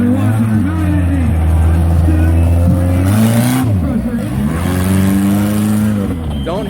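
A mini monster truck revs its engine in an arena, the motor rising and falling in pitch with a sharp surge mid-way, loud and close under continuous announcer talk.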